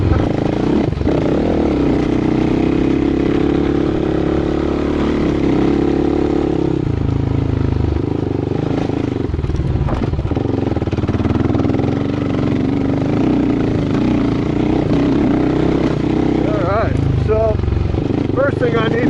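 A Suzuki LT-R450 quad ATV engine runs steadily while riding on a trail, a loud, constant mid-pitched drone with rattling clatter and brief shifts in pitch throughout.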